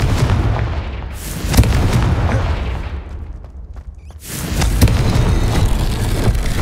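Confringo explosive spell in Hogwarts Legacy, loud close blasts and crackling impacts with a dense rumble that dips briefly to near quiet before erupting again.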